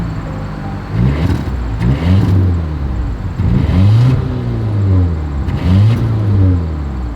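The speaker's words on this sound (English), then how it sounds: "here is that exhaust clip" A 2024 Volvo V90 Cross Country engine revs several times in short bursts, its exhaust note rising and falling loudly close by, with no talking.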